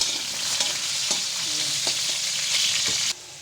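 Carrots and potatoes fry in a pan, giving a steady, loud sizzle with occasional stirring scrapes. The sizzle cuts off abruptly near the end.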